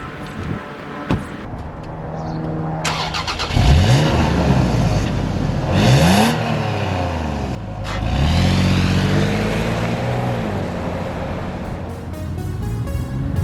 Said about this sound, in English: let's take the 2020 4Runner TRD Off Road by AutoNation Toyota of Cerritos